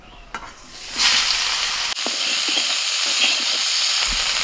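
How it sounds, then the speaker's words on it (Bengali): Cauliflower pieces frying in hot oil in a pan, a loud, close, steady hiss and sizzle that surges after a splash of the pieces going in, alone without talk. "এবার কপিটাও ভেজে নিচ্ছি।"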